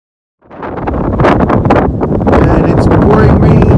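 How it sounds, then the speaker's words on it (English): Heavy wind buffeting a microphone outdoors on a rainy shore, a loud, continuous roaring rush that starts abruptly and then stays strong and gusty throughout. "And it's pouring rain. It's windy."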